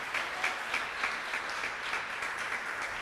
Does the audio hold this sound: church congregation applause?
yes